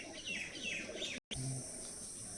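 Teddy pigeons coo softly in a loft in Lalgola, Murshidabad, with faint chirpy calls and low murmuring coos that come and go, quiet and close, broken by a brief dropout partway through.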